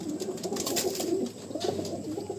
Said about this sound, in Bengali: এবার আমি কিছু পায়রা এখানে আপনাদের একটু রানিংয়ে দেখিয়ে দিচ্ছি।